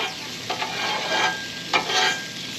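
French toast and bacon fry on a camp stove with a bright, crackling sizzle, broken by a couple of short spatula scrapes.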